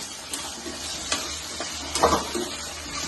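Soft, steady sizzling of raw banana pieces frying in an oil tempering with cumin, with a few faint clinks and stirring sounds.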